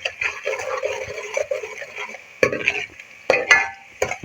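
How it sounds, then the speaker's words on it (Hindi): Salted onions sizzle and crackle in a pan while a utensil stirs and scrapes, with occasional sharper clicks against the pan. "प्याज हमारे फ्राई हो रहा है।"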